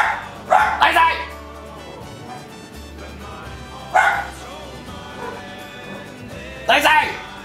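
A grandmother's dog barks in three loud, close bursts of two or three yaps each, separated by pauses, with a person talking faintly in between.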